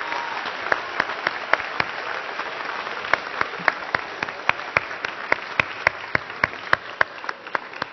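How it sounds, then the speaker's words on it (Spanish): Audience applause at a hackathon awards ceremony in Tijuana, honoring sponsor Qualcomm: a steady wash of clapping with sharp individual claps standing out on top, moderately loud and continuous, with no talk. "también un gran aplauso para Qualcomm que estuvo presente en todo esto."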